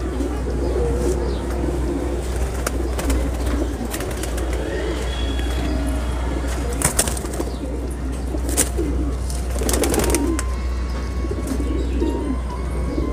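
A flock of Kasni pigeons, high-flyer birds in Jaipur, coos softly and steadily close by, with occasional bursts of wing flapping over a constant low hum.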